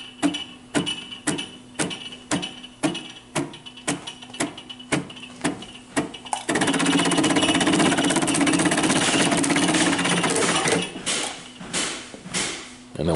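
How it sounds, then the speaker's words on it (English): A Brother BAS326H industrial pattern sewing machine stitches in quick rhythmic thumps, then the pedal is pressed and it races into a dense, continuous mechanical whir before easing off and resuming separate strokes near the end. "You step on the other pedal and it goes faster."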